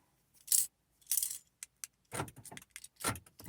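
Car keys for a Matrix or Vibe are pulled out and handled, giving several quick metallic jingles and clinks, close and fairly quiet with short pauses between bursts.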